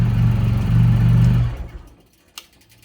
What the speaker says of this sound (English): So we'll turn the bike off.